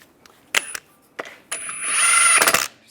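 Power tool tightening the wheel lug bolts on a Volkswagen Beetle during front lower ball joint work, with two short clicking bursts followed by a sustained whirring rattle that swells and then stops abruptly.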